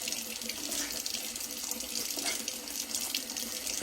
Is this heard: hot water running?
yes